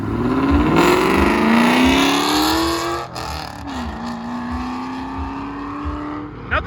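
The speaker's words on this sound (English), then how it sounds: "Mustang making some noise." A Ford Mustang at a car meet revs hard, its engine rising in pitch, dipping, then climbing again in a loud, close, sustained roar.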